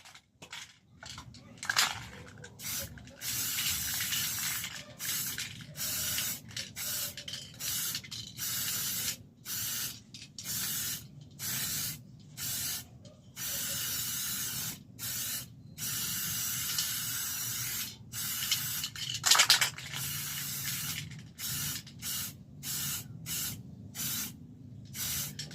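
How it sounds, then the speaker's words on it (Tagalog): Aerosol spray paint sprayed in repeated short bursts with brief pauses between, close and steady hissing over about two dozen seconds during a painting job. "mag-spray na ako, mag-spray."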